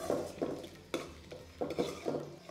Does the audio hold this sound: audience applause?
no